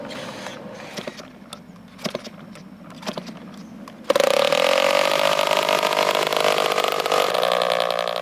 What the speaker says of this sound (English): an aircraft with a strange mission is revving up